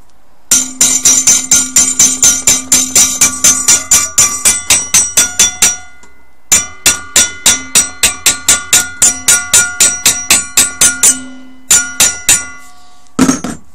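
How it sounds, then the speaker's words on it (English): A bent metal bracket clamped in a vise is struck with a hammer in a long, steady run of sharp, ringing metallic blows, loud and close, with a brief pause midway and a final few hits at the end. "So I shall take the hammer to it."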